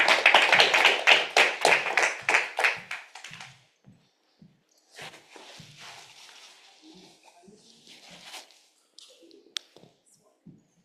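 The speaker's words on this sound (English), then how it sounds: "Please give her a huge round of applause." An audience gives a round of applause to welcome a speaker to the stage at a music tech event, clapping loudly for about three seconds before trailing off into scattered claps and faint room noise.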